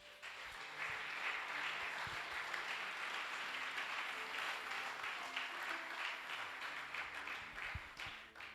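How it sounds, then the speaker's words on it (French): Church congregation applauding during a Sunday service, a sustained dense wash of many hands clapping, fairly distant and steady for several seconds before tapering off. "Est-ce qu'on peut acclamer pour le Seigneur?"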